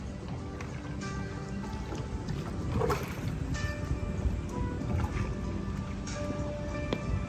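Water laps and splashes around a small wooden boat on a river at night, with creaks and knocks of wood and faint voices in the background.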